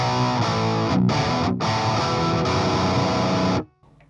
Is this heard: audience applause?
no